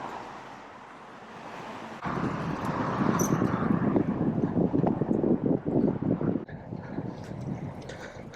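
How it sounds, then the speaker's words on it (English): Wind buffets the microphone during an urban bike ride, a steady roar that gusts louder midway and then eases slightly, with no talking. "There's a bit of a breeze still"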